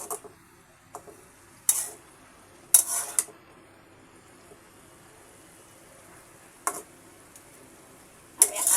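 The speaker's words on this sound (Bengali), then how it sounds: "একটু চুলায় নেড়ে দেব আর দু এক মিনিট রেখে নামিয়ে নেব" A spatula stirs a potato, carrot and gourd-peel stir-fry in a pan on a stove, giving a few sharp, bright metal scrapes and clinks separated by quiet gaps.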